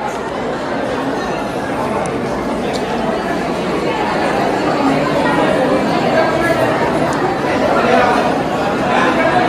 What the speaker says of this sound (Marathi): गर्दी आता वाढली तुम्ही बघू शकता